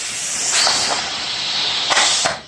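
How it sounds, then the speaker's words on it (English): Steady loud hiss of steam escaping from a weighted pressure pot, continuous and close, with a couple of brief sharper bursts near the end before it cuts off. "I hope you can see the steam. I'm sure you can hear it"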